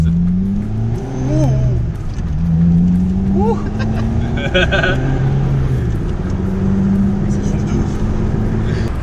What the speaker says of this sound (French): test de la Rover avec le nouveau moteur avec Yanis.